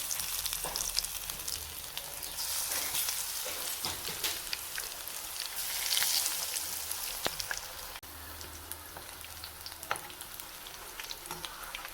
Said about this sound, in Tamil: இப்போ நம்ம கொஞ்சம் கொஞ்சமாக எடுத்து பேனில் போட்டுக்கலாம்